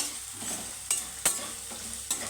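Onion fries in a pan with tomato and green chilli and is stirred in quick scraping strokes over a continuous close sizzle, with no voices.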